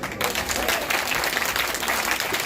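Church congregation applauding at a Resurrection Sunday morning service, a dense, steady wash of many hands clapping that fills the whole moment with no break.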